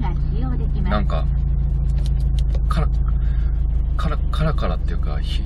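A Subaru WRX STI (VAB) idles after a transmission mount change, its steady engine hum and drone running continuously beneath frequent overlapping talk inside the car.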